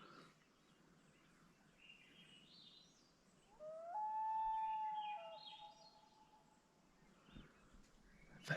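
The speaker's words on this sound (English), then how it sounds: "That's such a cool sounding bird." A bird calls outdoors on a sunny day in Maine, one faint, drawn-out tonal cry with gliding pitch sounding from a distance over quiet background hiss.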